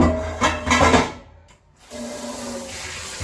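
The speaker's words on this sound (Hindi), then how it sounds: "हम किचन में बर्तन धो रहे हैं।" Dishes washed by hand in a home kitchen: scrubbing and rubbing of utensils with running water, louder at first, a brief quiet gap, then a steady softer wash, with no talk.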